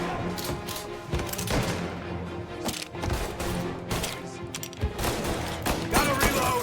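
Gunfire in Mafia: Definitive Edition, a chaotic run of loud, close shots and heavier bangs firing in quick, irregular clusters with brief gaps, plus thuds and scattered impacts.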